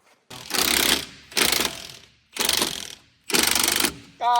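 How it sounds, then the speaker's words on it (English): A ratchet loosens the top bolt of a lift kit on a 2009 Chevy Silverado 1500, heard as four close, even bursts of rapid clicking separated by short pauses. "Loosen this top bolt."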